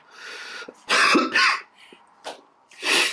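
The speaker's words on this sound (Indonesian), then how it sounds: "Gue masih ada batuk kecil gitu." Several short, rough coughs in quick bursts, close and loud, with brief pauses between them.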